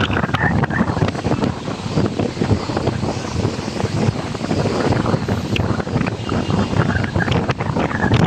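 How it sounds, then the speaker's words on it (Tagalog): Strong gusty wind buffets the microphone at Manila Bay after a typhoon, a loud continuous roaring rush with water sounds beneath it. "Lakas ng hangin guys"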